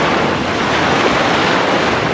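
Steady roar of ocean waves and surf in the iPhone game Return to Mysterious Island, a loud, unbroken wash of noise with a windy edge, no talking.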